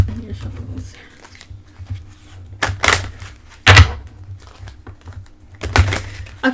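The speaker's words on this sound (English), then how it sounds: "No, I need to shuffle this." Angel oracle cards shuffled by hand in a quiet room, giving soft papery riffles and sharper slapping bursts that come and go in several close, fairly loud clusters.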